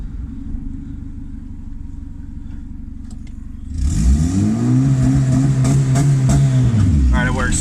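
A turbocharged Honda Civic with a D16 engine idles steadily, then launches hard from a stop, its engine note climbing and revving loudly through the gears close to the microphone.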